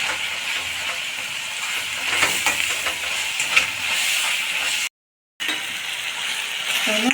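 Salted tomatoes hiss and sputter as they sauté in oil in a pan, a continuous close frying sound with occasional stirring scrapes and one brief cut-out of silence.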